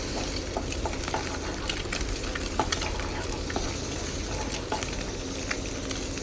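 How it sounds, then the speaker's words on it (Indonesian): Petai beans being stir-fried for green-chili fried rice, with a steady, close crackling sizzle that carries on without a break and has small pops scattered through it. No one speaks. "Jadi gak terlalu lama untuk menumis petenya ini."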